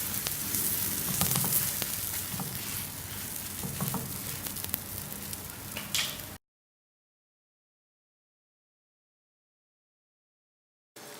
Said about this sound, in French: Mettre directement la pâte dans la poêle et faites cuire 1 minute de chaque côté